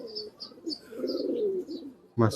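A domestic pigeon of an old breeding line coos softly and close, a low warbling call with faint chirps around it, ending in a sudden louder burst.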